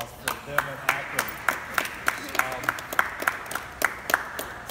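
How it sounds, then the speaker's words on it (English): Audience at a brewery announcement event clapping in a loose, fairly sparse rhythm of distinct claps, close and moderately loud, with a voice talking over it. "a big round of applause for them and Akron."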